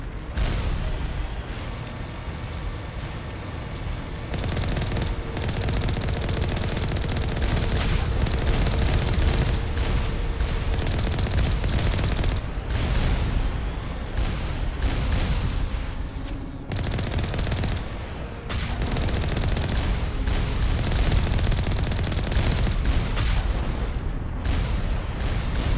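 Mass Effect turrets fire continuously in dense, rapid bursts of gunfire, with booming impacts throughout, loud and sustained across the whole stretch with brief dips between volleys.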